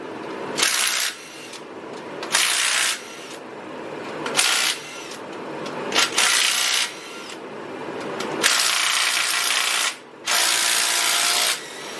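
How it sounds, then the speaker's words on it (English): Bolts on the cam caps of a Honda B-series engine come off with a power tool during a head gasket job in a garage, in repeated loud whirring bursts of about a second with brief pauses between, no talk. "now we just gonna bust off all these bolts"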